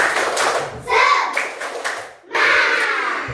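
A group of schoolchildren clap in quick bursts, loud and close, with chanting voices mixed in between the claps.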